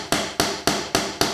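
Five sharp, evenly spaced hammer blows drive a wooden dowel into a tight hole in quick succession, each a crisp knock that quickly fades, close and alone.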